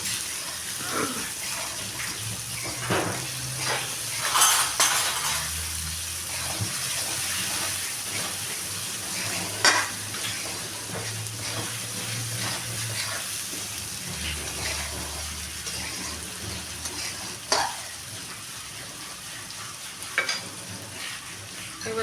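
Onions sizzle steadily in a hot pan, with repeated scraping and clinking of a spoon stirring them in short bursts through the frying.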